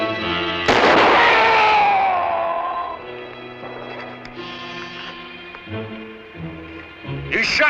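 A loud rifle shot in a frontier action scene, a sharp blast followed by a long ringing decay, then quieter rustling and movement before another short burst near the end.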